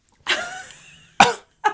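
One close, loud cough trails into a rasping throat clear, followed by a second short cough, all within under two seconds.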